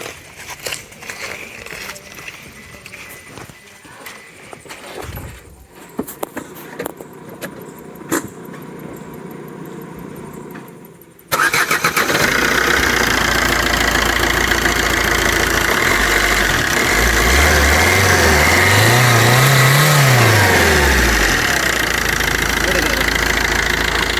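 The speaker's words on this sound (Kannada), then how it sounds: "ಇದರ ಸೌಂಡ್ ನಿಮಗೆ ತೋರಿಸ್ತೇನೆ ನಾನು, ಸ್ಟಾರ್ಟ್ ಮಾಡಿ ತೋರಿಸ್ತೇನೆ ಸೌಂಡ್." A 2008 Maruti Swift Dzire diesel engine cranks and fires up, then settles into a loud, close idle with rising and falling revs; speech and handling noises come before the start.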